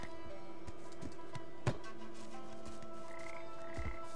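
Frog croaks in the video game Papo & Yo, a few short low croaks spread across the clip over steady game ambience and tonal background music, one louder croak near the middle.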